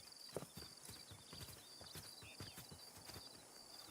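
Horse hooves clip-clop at a steady walking rhythm in the Red Dead Online video game, close and moderately loud, with faint tack rattles and no talk.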